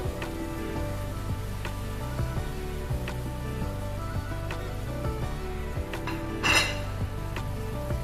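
Paneer is stirred into fried spice masala in a pan, with a spatula clinking and scraping against the metal in a steady, close rhythm and a faint sizzle underneath, no talking.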